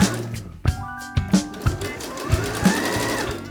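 A sewing machine runs close up, understitching a jumpsuit seam in a few short bursts of rapid needle clatter, with distinct knocks and pauses between runs.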